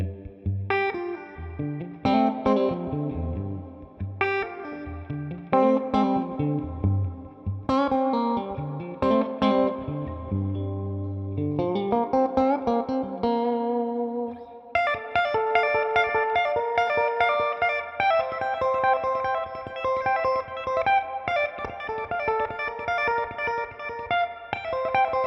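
Fender Masterbuilt electric guitar played on its middle and bridge pickup setting, picked notes and chords with chorus and reverb effects, shifting into a denser strummed passage halfway through, close and alone without talk.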